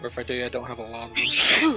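A person talks briefly, then lets out a loud, abrupt sneeze that fills the last half-second.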